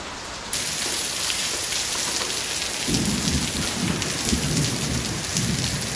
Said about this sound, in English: you can probably hear the rain in the background there